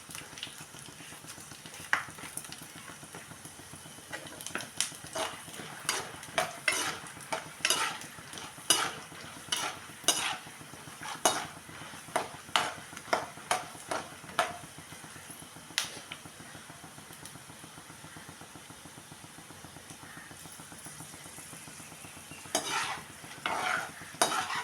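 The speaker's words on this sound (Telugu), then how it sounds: "ఇవన్నీ వేరుశనగగుళ్ళు అయితే కొంచెం వేగినాయి కదండి. ఇప్పుడైతే నేను తాలింపు సరుకులు కూడా వేసేసుకుంటున్నాను." Peanuts and tempering spices sizzle steadily in a pan while a spoon stirs and scrapes, sending out irregular clicks and taps throughout, with no talking.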